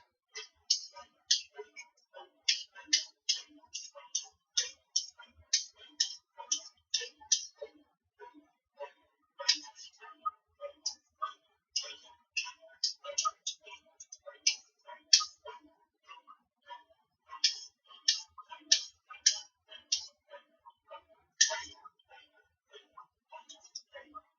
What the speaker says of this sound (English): And so the carrot is going to be peeled. I'm peeling it with this beautiful instrument.